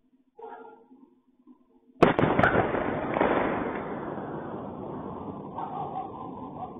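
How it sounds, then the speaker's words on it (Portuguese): A sudden loud explosive crack in Rostov followed by a long rumbling, crackling roar that slowly fades, heard from a distance with no voices. "é mais uma vez o barulho de uma explosão lá em Rostov"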